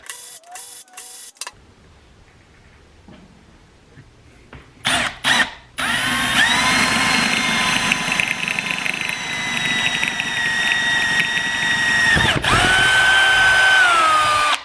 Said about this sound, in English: get this plate removed and get that hole drilled in there